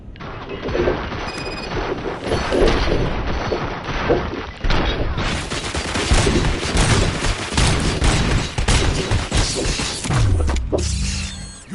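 Dense gunfire in the Robocop Rogue City video game, loud and continuous with crashing impacts and mechanical clanks layered over a busy combat soundtrack.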